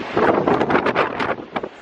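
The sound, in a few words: wind blowing into the microphone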